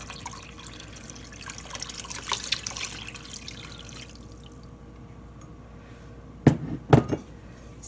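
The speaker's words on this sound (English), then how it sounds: "I'm going to go ahead and just get some more water and top this off" Tap water poured into beef broth soup in a crock pot: a steady running trickle with splashing for several seconds, then it quiets and two short, louder splashy bursts follow near the end.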